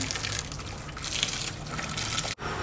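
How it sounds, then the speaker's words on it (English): Boiling water poured over slit tomatoes in a kitchen while making spaghetti bolognese: a steady, close splashing gush of liquid that runs unbroken, with a brief cut near the end. "add boiling water"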